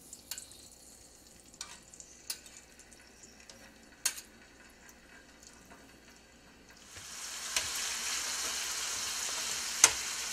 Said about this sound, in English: I'm heating just a light layer of olive oil in this large skillet. And I'm going to add the scallops